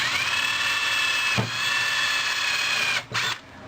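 A power drill with a dull bit whines steadily at high pitch drilling plastic, close and loud, briefly pausing and restarting before spinning down.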